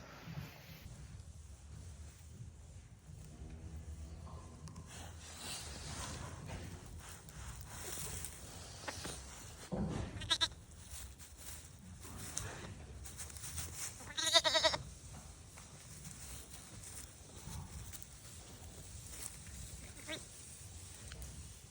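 Sheep bleat in a field, with several scattered calls at varying distance over a soft wind and low rustling.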